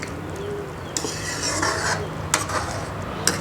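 Pork curry with pheka pods is stirred in a pot, producing soft wet scraping and a few sharp metal clinks of a spoon against the pot over a low simmering hiss.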